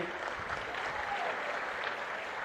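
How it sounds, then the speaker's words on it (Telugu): A crowd claps loudly and continuously at a TDP public meeting in Gudivada, dense sustained applause filling the whole stretch without pause. "గట్టిగా చప్పట్లు కొట్టి అభినందించండి ఆయన్ని"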